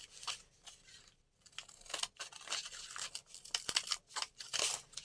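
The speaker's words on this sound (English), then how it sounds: "I'm going to cut it with this" Scissors snip through chess magazine paper in a series of irregular cuts with crisp tearing and crinkling bursts, fairly close and moderately quiet, with a short pause near the start.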